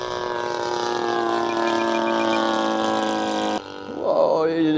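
A 77-inch span RV-8 Old Crow RC model airplane engine running slightly rich in flight, a steady, loud buzzing drone that cuts off abruptly near the end, followed by a quieter, rising tone.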